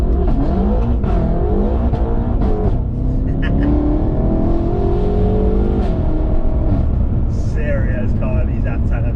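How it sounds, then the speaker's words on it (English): BMW F10 M5 engine accelerating hard on the street, a loud sustained rising roar that bounces off the rev limiter, with occupants talking over it throughout. "And the sound of this one when you're like hitting the limiter, it's like wah, bah, bah."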